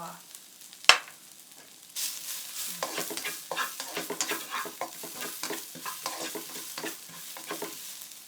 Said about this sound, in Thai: แล้วก็เอาพริกกระเทียมลงไปผัดเลยค่ะ